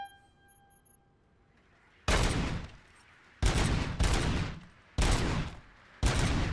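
Gunfire at a shooting range in RoboCop: Rogue City, four loud bursts of rapid shots separated by short pauses, starting after a quiet opening with a faint tonal hum.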